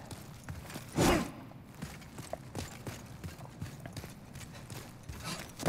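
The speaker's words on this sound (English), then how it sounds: "Oh wait, I hear footsteps" Footsteps in the video game Demon's Souls thud in a quick, irregular clopping pattern, soft and somewhat distant, with one louder impact early on.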